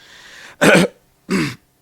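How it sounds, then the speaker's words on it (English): Two short, loud coughs burst out close by, separated by a brief pause, over a faint background hiss. "I got hiccups and coughing at the same time"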